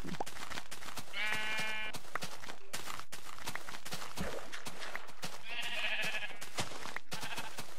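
Sheep in the video game Minecraft bleat in two short wavering calls, a second or so each, separated by pauses and set against scattered game footsteps and clicks.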